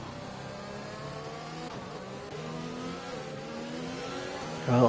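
Formula 1 cars in a racing game accelerate around Spa, several engines whining and climbing in pitch together at moderate distance, with one car drawing closer and louder right at the end.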